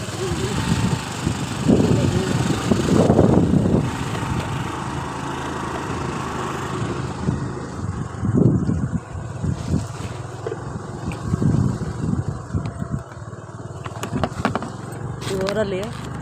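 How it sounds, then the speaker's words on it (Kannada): A motorbike bumps along a rough rural road full of potholes, its engine droning steadily while a person talks over it. "ನೋಡಿ ನಮ್ಮ ಬೈಕ್ ಎಂಥ ಹಳ್ಳದಲ್ಲಿ ಹೋಗುತ್ತೆ."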